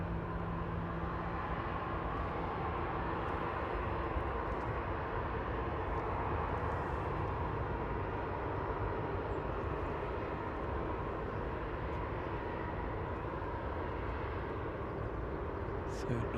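Steady, moderately loud aircraft engine drone at Manchester Airport as a plane taxis along the ground, a continuous hum running unbroken throughout with faint background voices.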